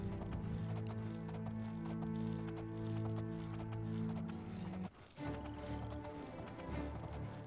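A horse gallops in The Elder Scrolls IV: Oblivion with steady rhythmic clip-clop hoofbeats under a low droning music bed, then a brief dip before the hooves resume.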